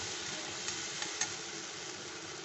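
Onion paste and spices fry in a pan for mocha chingri, a quiet, even hiss of sizzling oil with a couple of light stirring clicks.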